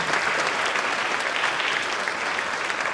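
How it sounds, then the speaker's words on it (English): A school spring concert audience applauds in a dense, even burst of many hands clapping, loud and sustained with no voices over it. "Give yourselves a round of applause"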